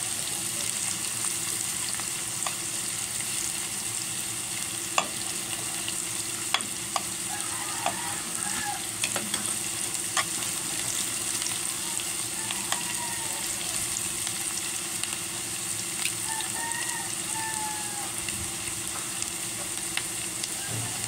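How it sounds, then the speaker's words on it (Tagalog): Garlic frying in a pan with onions for a home-style chicken curry, a continuous close sizzle and crackle with faint occasional stirring scrapes, heard alone and steady throughout. "Hintayin po natin mag-brown lang medyo yung bawang para mabango rin po talaga."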